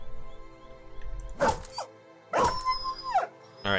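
Dogs in Battle Brothers bark in a few sharp, close bursts separated by short pauses, with a yelping, whining edge, over a quiet game backdrop.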